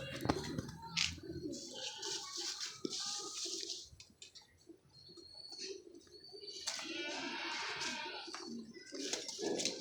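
Golden pigeons coo in soft, repeated throaty calls close by, mixed with scattered chirps and flutters, with a light watery background and no talk.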